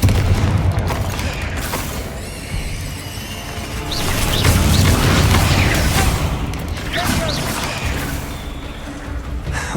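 Confringo fire spell explosions in Hogwarts Legacy on Xbox Series X, a loud, continuous barrage of booming blasts and crackling impacts close up, with a voice speaking over the clatter of combat.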